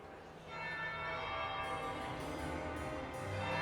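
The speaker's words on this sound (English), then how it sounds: "That would be the second bell." Church-style bells ring at a lavish party in the video game Dragon Age: Inquisition, a sustained resonant tolling that swells and holds under faint ambient chatter.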